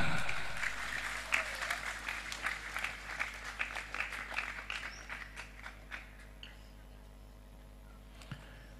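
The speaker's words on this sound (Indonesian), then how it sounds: "Tepuk tangan." A crowd at a religious gathering breaks into applause: loud clapping at first that gradually thins and fades over several seconds, with a few scattered claps near the end.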